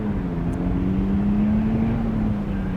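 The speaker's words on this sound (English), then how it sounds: "Nick is back there bedding in the brakes right now." Race car built for a Lemons series endurance race driving while its brakes are bedded in, a steady droning engine hum holding a low pitch that rises slightly and falls, heard at moderate distance with no voices.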